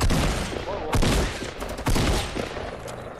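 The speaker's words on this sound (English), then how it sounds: "I got the last shot off on that" Gunfire rattles in a video game shootout, with bursts of loud, sharp shots at about one and two seconds and a dense crackle of firing in between, heard close, while players talk over it.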